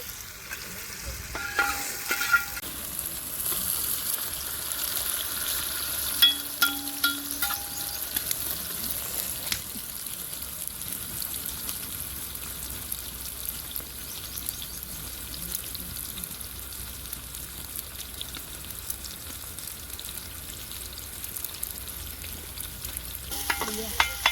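Onions frying in a pan for chicken biryani, a soft continuous sizzle running throughout with scattered scrapes and clinks of stirring, moderately quiet and without talk.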